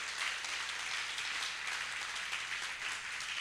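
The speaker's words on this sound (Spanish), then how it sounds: "Si lo vas a aplaudir, apláudalo hasta que se te calienten las manos." A church congregation at a Christian revival service applauding together, steady dense clapping that fills the space from start to end, fairly loud and close, with no talking over it.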